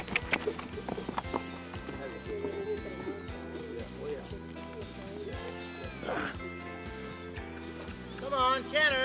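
Several horses canter on a ride in Belize, their hoofbeats thudding in an uneven rhythm under steady background sound, while people call out and talk throughout.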